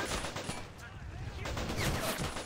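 Sustained gunfire during a convoy ambush in the MOWAS2 Eve of War mod, dense overlapping shots and battle noise in a continuous roar, with voices faintly mixed in.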